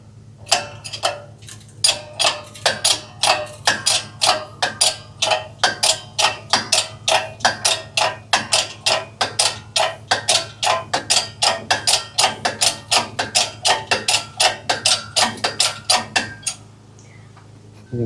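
Sheet metal for a 1956 Chevy wheel-well patch is struck by a hammer in a steady, even rhythm, dozens of ringing metallic blows close by that keep going for about fifteen seconds.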